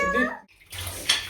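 Water gushes into a pot or small vessel while chicken biryani is being cooked at home, a short steady pour following a brief burst of talk.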